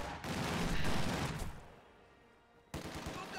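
Close-range bursts of quad-gun fire in a real-time strategy game featuring Panzer Grenadiers, a loud dense rattle for about a second and a half, then a quieter tail and a fresh burst near the end, with no voices.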